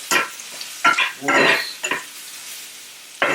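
Mixed vegetables stirred and scraped around a hot frying pan, several loud, close scraping strokes with a sizzle, separated by short pauses.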